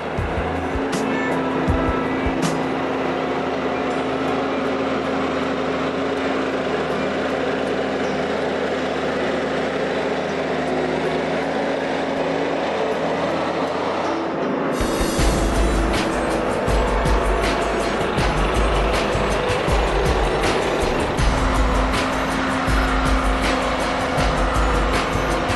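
A Gremo 1050H forest harvester runs with a steady, loud engine drone throughout, growing rougher and more forceful about halfway through as the machine works harder.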